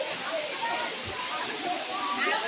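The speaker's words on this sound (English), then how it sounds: "The scenic beauty of the waterfall is here." The Sirjimale waterfall in Odisha, near Raigada district, roars as a steady, broad wash of rushing water that fills the whole scene without a break.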